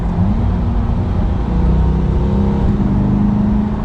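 Interior engine sound of a Chevrolet Corvette C8 accelerating hard, a steady loud drone rising in pitch with quick, barely noticeable gear shifts.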